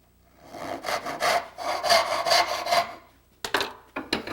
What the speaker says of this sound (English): Start on a backstroke, cut down on the marking gauge line.